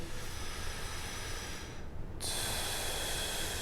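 Slow belly-breathing exercise: a long, close, hissy inhale through the nose, then a brief pause and another airy breath beginning, alone without talk.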